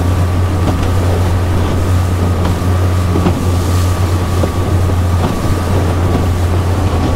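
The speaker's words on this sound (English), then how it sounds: "We're going 20 miles an hour through that water chop." A loaded skiff runs at about 20 mph across choppy water in 14 mph winds, its outboard a steady close drone beneath hull slap, splashing and buffeting wind noise, with no talk.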